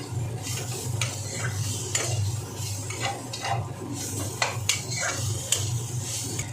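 A spoon stirs cauliflower with coriander powder in a pan, making repeated clinks and scrapes over a low, soft sizzle, with nobody speaking.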